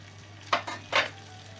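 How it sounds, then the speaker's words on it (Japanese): Koya tofu bread dipped in egg batter fries in a pan, with two or three short bursts of sizzling and scraping over a quiet steady hum, close by. "片面が焼けたら裏返して焼きます。"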